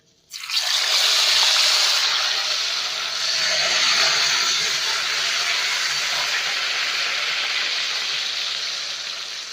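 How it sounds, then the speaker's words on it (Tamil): French fries deep frying in hot oil, a loud, steady, close hiss and crackle that starts abruptly and continues unbroken throughout, easing slightly near the end. "நல்லா ஃப்ரை ஆகிட்டு இருக்கு"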